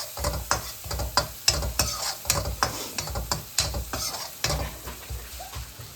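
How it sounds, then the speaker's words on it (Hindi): Eggplant and capsicum roasting in a pan for baingan bharta are stirred with steady, rhythmic scraping strokes over a constant close sizzle, with no talk. "अब इसको अच्छी तरीके से घुमाएंगे, मिक्स करेंगे।"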